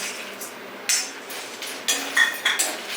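Dry chana dal tossed into a hot pan with no oil, giving several sharp clinks and rattling knocks at uneven intervals over a quiet background.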